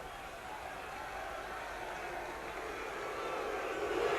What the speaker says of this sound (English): Edwards getting a sound booing as he goes off the field.